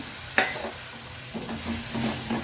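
Vegetables sautéing in a pan with a soft, steady sizzle and a few stirring scrapes, including one sharp clink near the start, close up with no talking.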